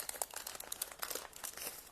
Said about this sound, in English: So I'm carefully peeling their label